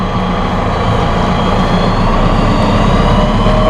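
A Massey Ferguson 1393 tractor runs with a RazorEdge disc mower conditioner cutting in a field, giving a loud, steady, close engine drone with deep low rumble and no talking.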